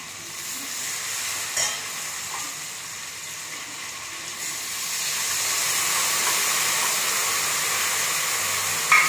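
Half a cup of water poured onto frying spices in a pan sets off a continuous loud hiss and sizzle that steadily builds, with occasional stirring clinks nearby.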